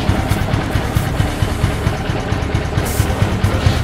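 Yamaha R15 V1 motorcycle under restoration idling on a low, uneven idle just after starting, with a steady close throbbing engine hum and the exhaust not yet properly mounted.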